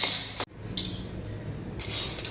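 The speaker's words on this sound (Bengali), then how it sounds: "শিমের বীজ ভাজতে বসিয়ে দেওয়া হয়েছে।" Bean seeds frying in a pan, a steady broadband sizzle with metallic scraping and clinks of a utensil against the pan, a brief gap midway before the frying noise resumes; no voices.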